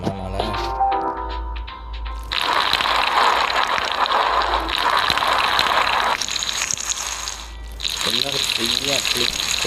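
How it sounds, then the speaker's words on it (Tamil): Water pours in a cinema cleaning simulator game, a broad steady gush that runs for several seconds, breaks off briefly, then resumes, with a voice talking over it. "சொன்னா தண்ணி ஊற்றலாமா மேலே?"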